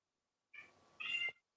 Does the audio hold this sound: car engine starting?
no